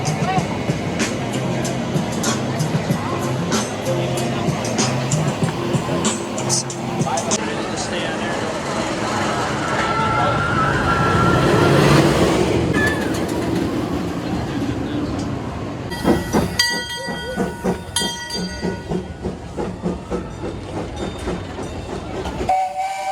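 A ride on the Steel Vengeance roller coaster at Cedar Point, a long loud rumble and clatter of the train on the track with wind roar, rising to a peak midway, then rhythmic rattling clicks, with riders' voices throughout.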